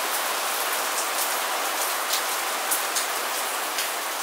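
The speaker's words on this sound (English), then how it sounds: "It's raining like every day." Rain falls steadily, a dense, even hiss of drops on surfaces with a few slightly louder patters, close and continuous with no voices.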